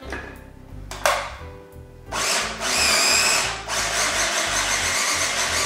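A food processor grinds black beans and chickpeas with a little Tuscan olive oil for veggie burgers, its motor whirring loudly in short bursts and then running steadily, close by and without speech.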